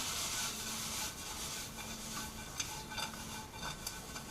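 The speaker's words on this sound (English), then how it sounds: "Alright, so I start hearing the sizzle." Already-cooked bacon and green beans being reheated in a pan, a steady quiet sizzle with occasional scraping stirs, close and continuous.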